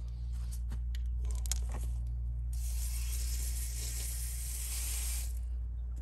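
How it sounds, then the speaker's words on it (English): Water sprays onto a Toyota Tundra to rinse it, a soft broadband hiss that starts partway through and runs for a few seconds over a constant low engine-like hum. "Let me rinse this off a little bit."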